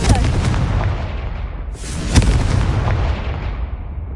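A Confringo explosive spell blast in a Harry Potter video game, two heavy booming bursts with long rumbling decays, loud and close, with faint game voices around them.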